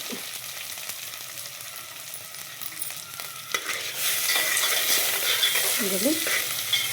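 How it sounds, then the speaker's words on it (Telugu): Onions roasting in a home kitchen pan, stirred with a spatula: a soft scraping stir at first, then from about four seconds a broad, steady sizzle of frying, close and fairly loud, with no talking. "ఇది మంచిగా రోస్ట్ చేయండి. అటు ఆనియన్స్ కూడా రోస్ట్ అయిపోతాయి."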